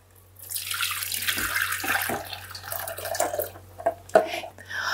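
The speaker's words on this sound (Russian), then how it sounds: "Смотрите, мы сливаем сыворотку." Whey draining from freshly set Adyghe cheese into a sink or bowl, a steady splashing pour of liquid with dripping, close and fairly loud, with no speech.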